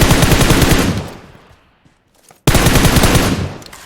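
Loud, rapid bursts of automatic gunfire in PUBG Mobile, a dense volley that fades out, then a short silence before another sustained burst starts abruptly and continues.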